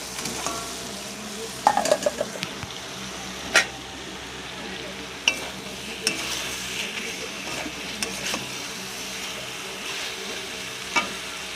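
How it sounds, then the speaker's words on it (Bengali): Fish sizzles steadily in hot spiced oil in a pan while being stirred, with occasional clinks of a utensil against the pan over the continuous frying hiss. "মশলা থেকে তেল ছেড়ে দিয়েছে, মাছ দিয়ে দেবো।"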